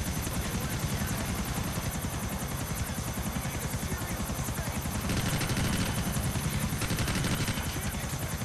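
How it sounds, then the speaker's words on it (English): A police helicopter hovers overhead in the open-world game GTA IV, its rotor a steady, loud chopping thrum that continues throughout, swelling slightly toward the end, with no voices over it. "I think that's you in the chopper above us."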